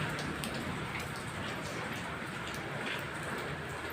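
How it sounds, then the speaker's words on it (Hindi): Heavy rain falls steadily outside a home under dark clouds, a dense, unbroken hiss of downpour that holds at an even level throughout. "चलते हैं बरसात में"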